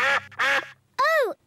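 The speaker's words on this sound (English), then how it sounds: "Oh, it's the ducks." Cartoon ducks in a snowy garden give three loud, close quacks: two short ones in quick succession, a pause, then a longer, rising-and-falling call.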